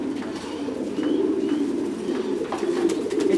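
Thai Titan meat pigeons coo steadily at a pigeon farm, a close, continuous low warbling with overlapping birds and no talking.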